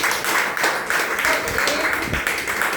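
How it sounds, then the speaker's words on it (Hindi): An audience claps in dense, continuous applause, moderately loud and close, with some irregular louder bursts and a faint voice beneath. "उनके लिए जोरदार तालियां होनी चाहिए।"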